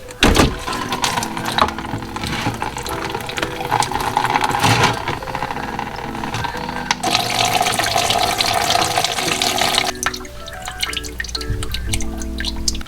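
Coolant drains from a BMW during a flush in a continuous, fairly loud trickle and splash of liquid, with steady dripping and no voices.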